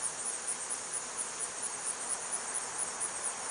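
Straggler worker honey bees buzzing around empty hive boxes outdoors, a steady, even drone with a faint high insect whine and no voices.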